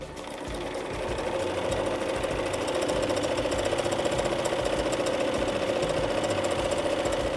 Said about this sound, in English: And then we're gonna stitch it together along that opening.